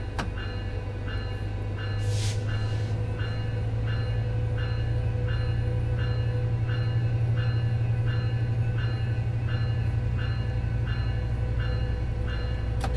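An EMD F125 diesel locomotive in Train Sim World 5 accelerating through the low notches, a steady deep engine drone under a regular clicking rhythm of wheels over rail joints, with one brief hiss early on and no voices.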